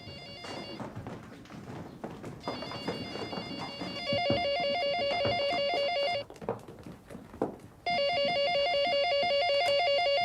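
A telephone rings in sharp repeated electronic trills, two long bursts separated by a short gap, loud and close over background noise and thumps.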